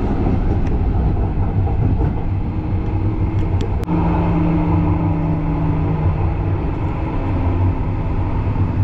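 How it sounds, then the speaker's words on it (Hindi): Tram rolling from Topkapi station in Istanbul, a steady loud rumble of wheels on rails with a low motor drone and faint track clatter throughout, a brief clank near the middle. "तो चलिए मैं चलता हूँ ट्रैम की तरफ।"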